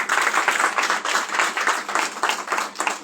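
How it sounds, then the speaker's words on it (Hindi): Loud, dense clapping from a theatre audience at a Uttarakhand stage and film gathering greets an introduced guest, a sustained, even burst of applause with no talk over it. "जोरदार तालियां दीजिएगा।"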